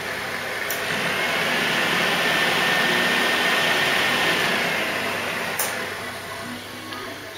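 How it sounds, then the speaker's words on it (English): An electric cooling fan runs on a Ford Cortina MK3 GXL under restoration, a steady loud broadband whir holding level throughout with two brief clicks near the start and end. "That's our fan working."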